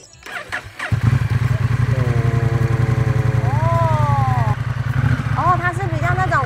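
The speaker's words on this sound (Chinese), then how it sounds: "可以听听看你的这个引擎吗" A modified Honda motorcycle engine revs and idles with a steady loud rumble, the pitch rising and falling through several blips, while people talk over it at a workshop.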